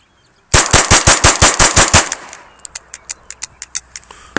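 Rapid gunfire from a magazine of Velocitor ammunition: a fast string of about ten loud sharp shots, then a second, quicker and slightly fainter volley of cracks.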